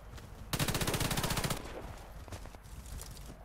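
A rapid automatic burst of gunfire in an online shooter video game lasts about a second, loud and close, then fades into quieter game ambience with faint distant sounds.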